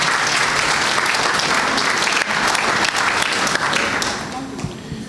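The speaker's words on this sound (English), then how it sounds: "Can we have a round of applause for all of them, please?" An audience at the SCTA 107th annual general meeting applauds, dense and loud sustained clapping that fills the room and tapers off toward the end.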